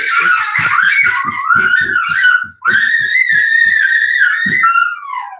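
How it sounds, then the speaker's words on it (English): A toddler's high-pitched, sustained squealing screams, loud and close, in two long wavering stretches broken by a brief gap, with small vocal stutters and breaths beneath them. "now I have no idea why he's screaming"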